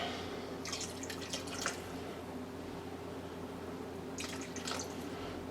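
Water mixed with white vinegar is poured for honeybee candy boards, giving two short bursts of splashing and trickling over a steady low background hum.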